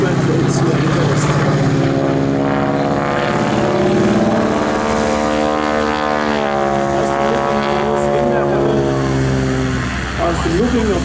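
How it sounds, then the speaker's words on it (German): A North American T6 with a Pratt & Whitney nine-cylinder radial engine roars steadily at an airshow, its loud, sustained drone shifting pitch as the aircraft manoeuvres, under continuous commentary. "Angetrieben von einem Pratt & Whitney 9-Zylinder Sternmotor"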